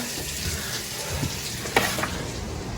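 Water runs steadily from a garden hose fitted to a reducing elbow at an HVAC coil, a continuous hissing spray with a couple of short knocks.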